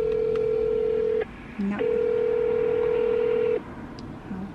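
Telephone call tones on a phone: long steady ringback tones separated by short gaps and a brief low beep, fairly loud, with a single short spoken word.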